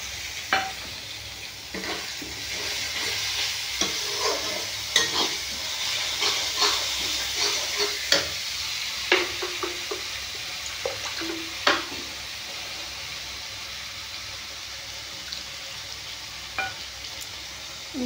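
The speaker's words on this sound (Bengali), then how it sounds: "সব একসঙ্গে মশলাটা আমি ভালো করে কষিয়ে নেব" Spice paste and tomato paste being stir-fried in a pan, a steady sizzle and hiss under repeated scraping and clinking of a spoon, close and moderately loud.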